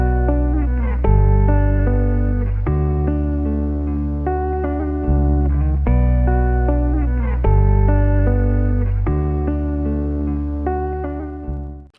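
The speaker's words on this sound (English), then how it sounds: "I just laid out simple electric guitar and also a bass" Electric guitar chords ring out over a steady bass line, with changes every couple of seconds and a clean, effected tone, no voices.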